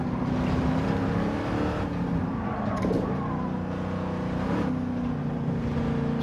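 A 1967 Ford Mark IV race car engine in Gran Turismo 7, racing at Le Mans, drones steadily at high revs throughout, with a sustained low harmonic roar and slight pitch shifts, loud and close with no talking.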